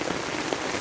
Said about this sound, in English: I really hate rain, but this seems to be very beautiful, right?